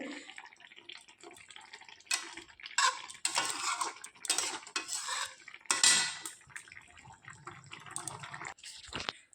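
Fish curry with cauliflower and potato is turned in a pan, giving close, irregular bursts of spoon scraping and clinking against metal, with wet stirring between the louder strokes and no voices.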